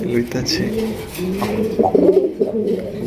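Raj Golla pigeons coo in deep, throbbing, repeated calls, close and fairly loud, their rolling rhythm almost mechanical like a tractor engine, with a voice talking intermittently over them.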